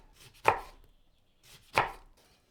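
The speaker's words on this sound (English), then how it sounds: "Cut a half a lemon into slices." Two crisp knife cuts through half a lemon on a cutting board, each a sharp thunk about a second apart, close and clear with quiet in between.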